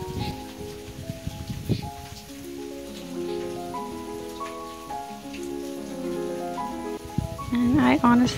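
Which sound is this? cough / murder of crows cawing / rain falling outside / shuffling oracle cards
rain falling outside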